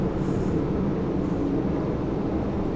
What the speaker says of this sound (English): sounds over the jet planes that are taking off near me.